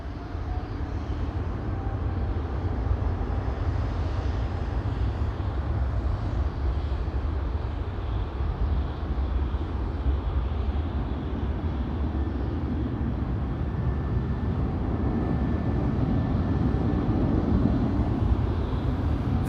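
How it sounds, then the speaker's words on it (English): Airbus A350 airliner approaching Amsterdam Schiphol Airport, a steady broad engine roar held throughout at constant loudness, no voices. "Now I spy with my little eye an A350 coming this way."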